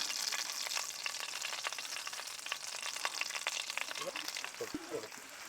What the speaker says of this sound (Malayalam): ഇനി നമുക്ക് ഓരോരോ കഷ്ണം ഇറച്ചിയായിട്ട് ഇട്ടിട്ട് പൊരിച്ചെടുക്കാം